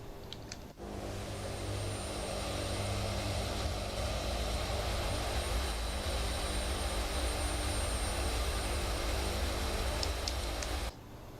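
The Lazerbolt jet engine roars steadily through its takeoff roll in a flight simulator, a loud, continuous broadband rush with a thin high whine, cutting off abruptly near the end.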